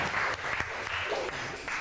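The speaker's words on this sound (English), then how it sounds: "Give him a clap and Mary Liz." A class of students clapping in a Grade 6 science lesson, a steady, moderately loud patter of many hands lasting a couple of seconds without pause.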